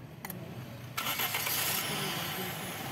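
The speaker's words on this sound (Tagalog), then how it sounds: "Patayin ko itong makina tapos i-start ko mga boss ha." A Toyota Corolla engine with a freshly adjusted air-fuel mixture cranks and catches after a short quiet, then settles into a steady, close idle.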